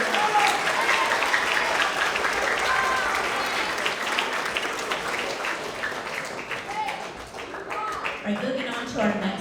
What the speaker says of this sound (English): Another round of applause for all of our PE Tigers of the Quarter.